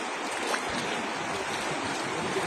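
Floodwater rushing through the Kaduwela junction near the Kelani River bridge, a dense, continuous roar of fast-moving water filling the scene at steady loudness.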